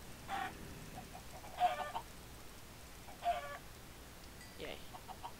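Clucking chickens in a modded Minecraft Crazy Craft world, four short clucks spaced about a second or more apart, faint and a little distant over quiet background.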